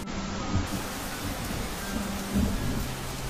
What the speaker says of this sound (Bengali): এমন সময় বাইরে আবার ঝমঝম করে বৃষ্টি নামল।